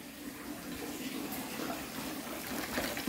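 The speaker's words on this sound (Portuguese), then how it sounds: "É água de mina. Ela fica ligada o tempo inteiro se deixar." Spring water running continuously from an outdoor tap at a family home, a steady splashing gush that stays even and close throughout, with no pauses.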